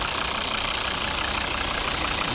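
A 2012 Volvo V50 2.0 D3 diesel engine idling steadily up close, a continuous even rumble with a rapid knocking pulse, no voices.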